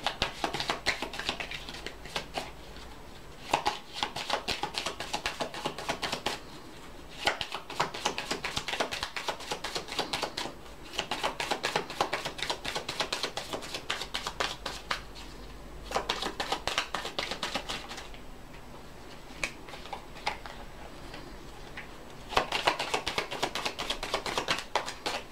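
Oracle message cards are shuffled by hand, a steady run of soft papery riffles and light taps. Brief pauses break the continuous, close shuffling.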